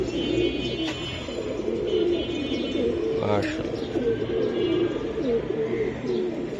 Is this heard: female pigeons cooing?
yes